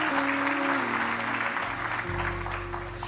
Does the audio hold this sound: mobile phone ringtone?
no